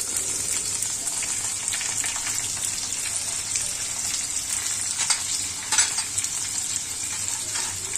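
Onion frying in a pan with green chillies for a capsicum gravy, a steady close hiss of sizzling oil with occasional stirring pops, moderately loud and with no talk.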